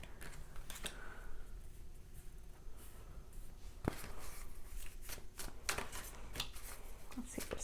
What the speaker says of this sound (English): I'm going to pull just a few more additional cards here.